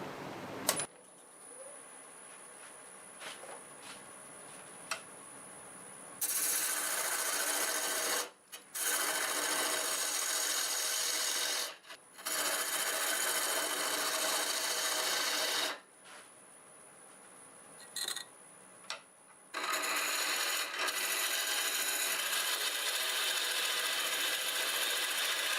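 A lathe tool cuts a tenon on black walnut, producing bursts of loud broadband scraping and hissing that start and stop repeatedly, with quieter gaps of motor whine between passes.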